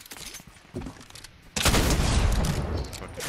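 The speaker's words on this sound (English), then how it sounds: "Bring out the shotgun" Shotgun fire in the Fortnite video game: scattered sharp shots early, then a loud, dense burst of blasts and booming rumble that carries on near and heavy, with a voice in the background.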